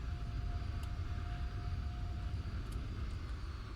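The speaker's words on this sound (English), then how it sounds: "We are taxiing to a gate." An airliner taxis in the Roblox game Flightline, a steady low engine rumble with a faint whine, continuous and unchanging at moderate level, with no talking.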